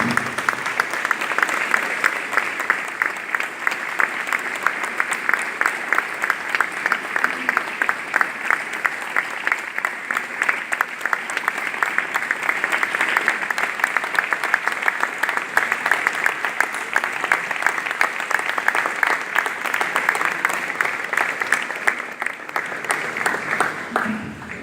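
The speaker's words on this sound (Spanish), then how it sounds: "Le damos un aplauso al Señor." A church congregation applauds with dense, continuous clapping that stays steady and loud for the whole stretch, filling the room evenly.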